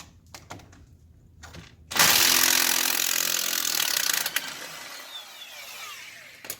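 An impact or power tool breaks loose and runs out the brake caliper bolts on a Toyota 7.5-inch rear axle: a few sharp clicks, then a loud sustained whirring rattle that tapers off near the end.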